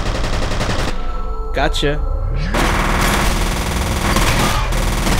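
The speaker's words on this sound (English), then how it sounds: "I shot a whole fucking magazine in your face." Sustained automatic gunfire from a magazine being emptied in the shooter F.E.A.R., loud and dense over several seconds with a brief gap, while someone talks over it.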